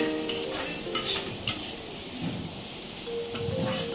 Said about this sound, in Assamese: ভালকৈ লাৰি ল'ব